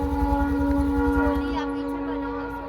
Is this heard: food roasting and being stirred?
no